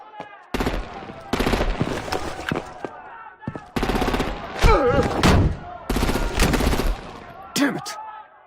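Heavy gunfire in the Batman: The Enemy Within game, with rapid machine-gun bursts in several loud, clustered volleys separated by short gaps, sharp single shots and a booming blast mixed in, plus a voice briefly heard among the shooting.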